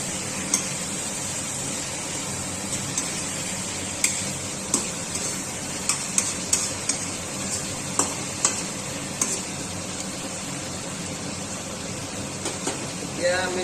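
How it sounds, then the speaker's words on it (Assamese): Pork frying with capsicum and fermented bamboo shoots in a pan, a steady low sizzle with repeated sharp clicks of a spatula stirring against the pan, close and continuous. "কেপচিকাম, গাজ টেঙা আৰু মাংসটো সামান্য এনেকৈ ভাজি ল'ম।"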